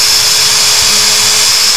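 A power drill runs at a steady high whine, boring into a pallet wood shelf, loud and close and continuous throughout with no pauses.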